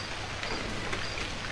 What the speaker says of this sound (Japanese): なんか雨の音が遠くなった